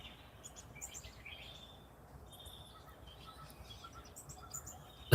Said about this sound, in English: even the birds are chirping